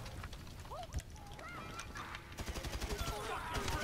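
Chickens in the video game GTA V, squawking and honking fowl calls over a busy, noisy game soundscape with rhythmic bursts toward the end.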